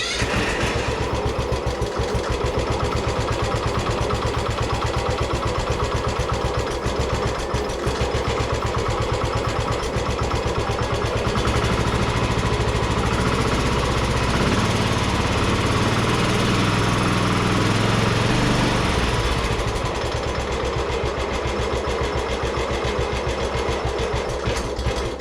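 A Craftsman ZTS7500 riding lawn mower engine runs continuously with a steady, rattling drone, rising into a deeper, louder chug partway through before settling back, smoking heavily from the exhaust.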